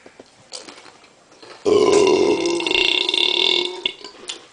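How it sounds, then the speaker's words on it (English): A long, loud burp during a home burping contest, starting abruptly after faint background noise and rumbling on for about three seconds before tapering off, with no talk over it. "Burp now."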